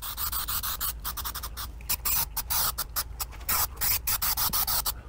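Spray adhesive being applied to an ice chest panel in a series of short, hissing bursts of varying length, close and fairly loud, with brief gaps between sprays.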